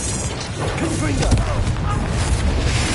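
A Confringo explosive spell blast goes off during Hogwarts Legacy combat, a short burst and crackle inside a dense mix of game sounds and music.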